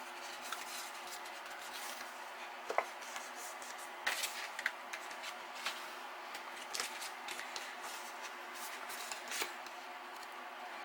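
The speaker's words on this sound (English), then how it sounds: "use my bone folder here" A bone folder is rubbed along paper to crease it for a 6x6 mini album, a soft close scraping and swishing with occasional light taps, quiet and without talking.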